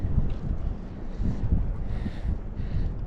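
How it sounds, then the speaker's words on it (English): Steady, cold gusting wind over a lake buffets the microphone with a low rumbling roar, loud and continuous throughout, with faint hiss above. "It's cold and windy"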